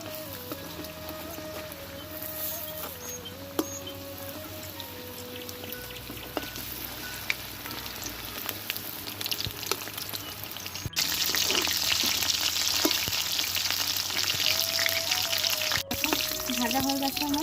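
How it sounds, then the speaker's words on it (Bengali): Pumpkin-leaf rolls stuffed with bhola fish fry in white oil over low heat, giving a steady close sizzle and crackle that grows louder partway through, with occasional clinks and faint background sounds. "আমার সবকটা রোল তৈরি হয়ে গেছে, এবার ভেজে নেব।"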